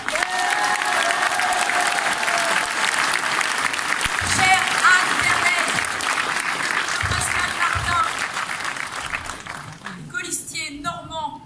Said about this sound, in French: plus de 153, on peut les applaudir.